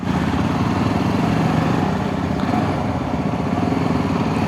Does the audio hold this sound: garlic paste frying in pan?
no